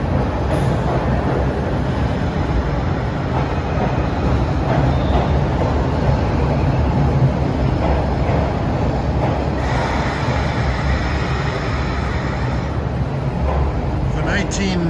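Philadelphia subway train with 1980s-built cars rumbling steadily and loudly throughout, a continuous close rolling roar with faint squeal, a voice speaking over it at times.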